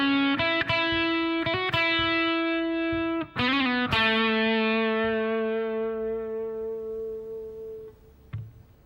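An electric guitar plays a short distorted phrase of quick picked notes and slides that ends on a long sustained note ringing out and slowly fading, with a brief tap at the end.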